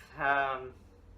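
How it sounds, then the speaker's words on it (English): A house cat gives one clear, close, drawn-out meow that rises and then fades over about half a second, in an otherwise quiet room. "Be quiet, cat."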